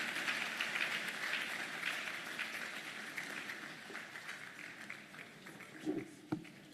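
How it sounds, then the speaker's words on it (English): An audience at a business summit in Enugu applauds as an MC is welcomed to the microphone, a broad steady clapping that gradually thins out, with a couple of louder knocks near the end. "Let's put our hands together as we welcome to the microphone, MC Frances"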